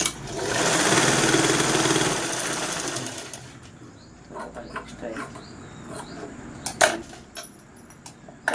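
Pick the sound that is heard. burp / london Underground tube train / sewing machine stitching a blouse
sewing machine stitching a blouse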